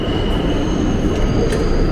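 New York subway train at Grand Central station rumbles loudly and steadily, with a thin high whine of wheels and brakes over the dense roar.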